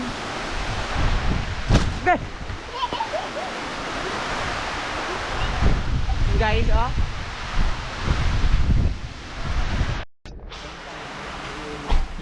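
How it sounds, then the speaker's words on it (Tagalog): Strong wind from a typhoon roars continuously against the microphone with gusty rumbling, and a person speaks briefly under it. "Lakas yung hangin."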